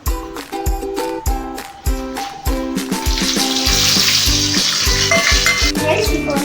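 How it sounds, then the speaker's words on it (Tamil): Dry red chillies frying in hot oil for Pallipalayam chicken, a steady bright sizzle building up over rhythmic knocks and clinks of a spoon against the pan. "முதல்ல வர மிளகாய் போட்டுக்கணும்."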